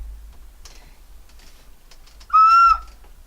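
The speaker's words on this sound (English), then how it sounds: "Here is a rooster that's actually a whistle." After some light tapping and clicks, a rooster-shaped toy whistle sounds once, short and shrill, a clear bright tone lasting under half a second, close up.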